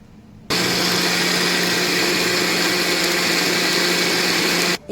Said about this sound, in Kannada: ಇಷ್ಟನ್ನು ನಾನು ಮಿಕ್ಸಿಗೆ ಹಾಕ್ಬಿಟ್ಟು ಚೆನ್ನಾಗಿ ರುಬ್ಕೊಳ್ತೀನಿ